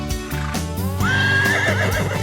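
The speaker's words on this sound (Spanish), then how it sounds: "¿Quién es? El caballo." A horse neighs in a loud, wavering whinny, close and clear over light background music, presented as an animal-sounds example for preschool children.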